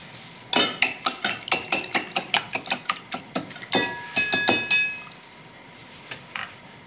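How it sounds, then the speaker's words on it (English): Eggs seasoned with salt and pepper are whisked briskly in a bowl, giving about twenty rapid, evenly spaced metallic clinks. The strokes stop, and a couple of isolated taps follow near the end. "Whisk the eggs."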